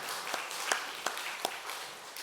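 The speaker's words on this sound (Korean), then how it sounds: "하나님께 영광의 박수 돌려드리겠습니다." Applause from a small church congregation at a Sunday service, a thin, scattered patter of claps with a few sharper individual claps standing out, fairly quiet and without talk.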